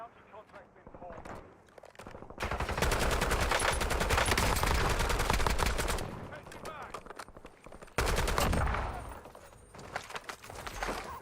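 Sustained bursts of automatic gunfire in the Call of Duty Warzone video game, long rapid runs of shots broken by brief pauses, loud and close, with a quieter lull between volleys.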